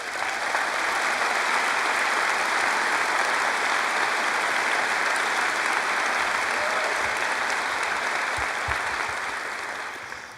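A graduation audience at a Chaska high school ceremony applauds honored students, a dense, steady wash of clapping that holds evenly for about ten seconds before tapering off at the end.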